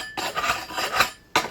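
Rough concrete pool edges are smoothed by hand with a short, gritty rasping scrape lasting about a second, close and fairly loud, followed by the start of another stroke.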